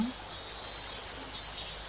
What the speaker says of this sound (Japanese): またセミが鳴き出しおったわい。